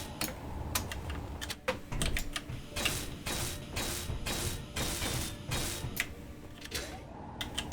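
Welding in the game Space Engineers sounds as a rapid mechanical ratcheting and clicking, irregular bursts of sharp ticks repeating close and moderately loud with no voice.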